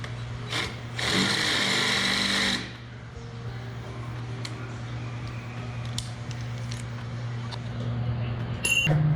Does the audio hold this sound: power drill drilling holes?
yes